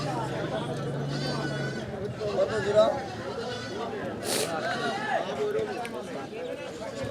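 At a busy afternoon goat market before Eid, medium and large goats bleat now and then amid continuous nearby talk and crowd babble.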